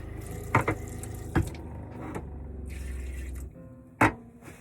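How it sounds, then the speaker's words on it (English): A home water pump runs while tap water flows into a sink in a home kitchen, giving a steady low hum under the running water, with a few sharp clunks and taps breaking through. "You hear my water pump?"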